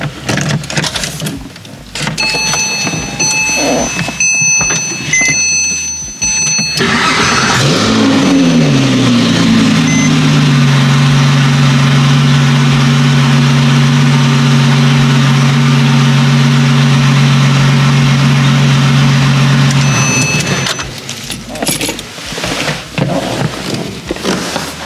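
A Porsche 997 with a slow-start problem cranks and fires up, rising into a loud revving surge that settles into a steady, even idle close by, then cuts off; no talking.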